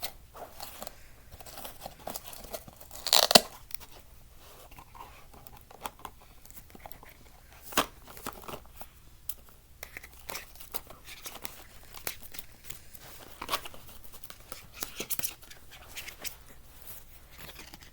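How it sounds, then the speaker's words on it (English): A Magic: The Gathering Commander deck being pushed back into its deck box gives scattered soft scraping, crinkling and shuffling of cards against the box, quiet and close with a few louder rustles. "Oh, Commander decks. They're such of a pain to get back in the deck box."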